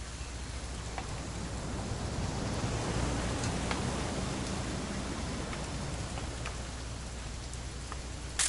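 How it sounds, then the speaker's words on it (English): Steady rain falls in a video game scene, a dense even hiss of drops with a few sharper spatters on hard surfaces, continuous and moderately loud with no voices. "It's gonna rain the whole weekend,"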